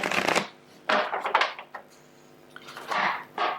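Tarot cards riffle and shuffle in several short bursts, close by and crisp, with quiet pauses between.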